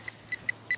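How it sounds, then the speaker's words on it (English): A Garrett pinpointer metal detector gives a quick run of short, faint electronic clicks or bleeps, about five in under a second, sounding fairly close and alone with no talking. "But you hear that pinpointer there clicking"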